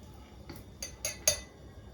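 A spoon clinks against the side of a glass while a mixture is stirred, four light taps growing louder, the last one sharp and ringing, in a quiet kitchen.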